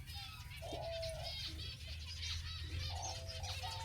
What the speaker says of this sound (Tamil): லாஃபிங் டவ் பண்ணுற அட்டகாசத்தை பாருங்கள்.